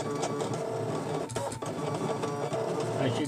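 A Scan N Cut machine embossing a pattern into parchment on an embossing mat, a busy continuous mechanical whirring and clicking like a printer carriage, close and steady for the whole stretch.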